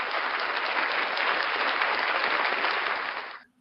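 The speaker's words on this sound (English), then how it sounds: "Ladies and gentlemen, round of applause for Frauditor News Network." A dense round of applause for Frauditor News Network, a loud, even wash of many hands clapping that fades abruptly near the end.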